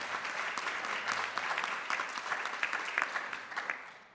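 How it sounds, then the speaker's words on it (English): Audience applause at a food waste solutions showcase, a steady wash of many hands clapping at moderate distance, fairly soft and even throughout before tapering at the end. "So let's give them a round of applause."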